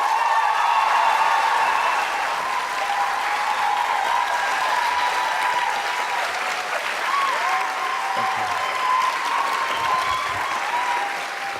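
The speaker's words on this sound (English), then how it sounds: "please welcome with a big round of applause" A large audience at an event in Berlin applauds loudly and steadily for about twelve seconds as guests from Doctor Who are welcomed onto the stage, with some cheering mixed into the dense clapping.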